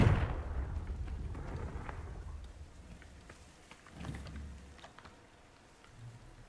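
Confringo explosive spell cast in Hogwarts Legacy, a loud blast at the start that rumbles and crackles away, followed by fainter scattered pops and thuds.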